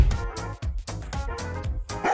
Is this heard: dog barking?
yes